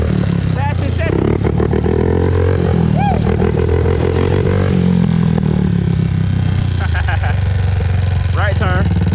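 Riding a 2001 Honda TRX400EX ATV through turns: a close, loud engine drones and rises in pitch as it accelerates, with clattering underneath and someone talking over it.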